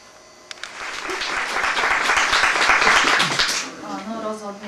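Applause from an audience at a commemorative event in Kysáč honouring a retired teacher: scattered claps swell into sustained clapping that fades out, followed by a person beginning to speak.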